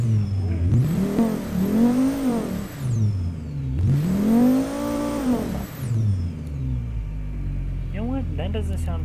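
A five-cylinder sports sedan engine in the BeamNG driving game revs hard twice, each long rising-and-falling sweep loud and close, then settles to a rough idle with faint chirps at the end.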